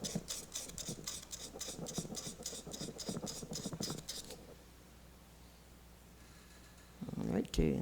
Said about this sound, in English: You sand one direction from your bushing over that high area.